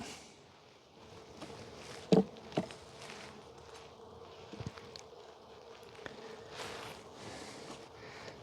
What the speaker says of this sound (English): Now we're getting into the bee population.